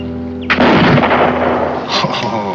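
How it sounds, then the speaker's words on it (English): A single loud rifle shot cracks nearby and booms away into a long echoing tail, fired by an old marksman in a 1960s frontier Western drama. "Oh, he can shoot."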